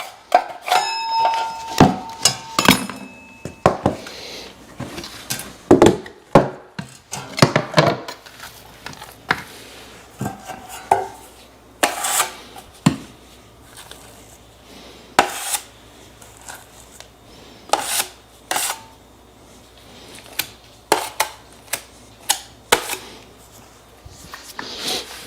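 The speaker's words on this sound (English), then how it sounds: "So give it a good scrape, get everything cleaned out before you get more mud in the pan" A drywall knife scrapes dried drywall compound out of a mud pan in repeated sharp, rasping strokes, irregular bursts of metal-on-metal scraping with short pauses between them.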